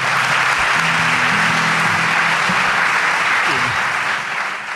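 Studio audience applause on a Spanish radio show, continuous even clapping filling the whole stretch and tapering slightly at the end, with a faint voice underneath.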